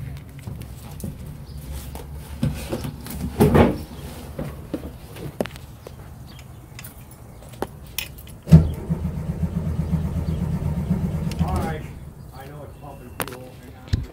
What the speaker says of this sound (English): I started the car a couple times trying to get it started